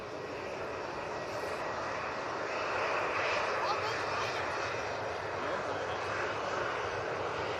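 Ryanair jet at Manchester airport powering up its engines, a broad, steady roar that swells slightly partway through and holds, heard from a distance with speech in the background.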